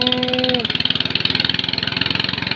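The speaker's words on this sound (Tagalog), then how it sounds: "halos hindi tayo magkarinigan sa ingay ng makina" An old rice threshing machine engine chugs nearby in a fast, even pulsing rhythm, loud and continuous, after a brief voice at the very start.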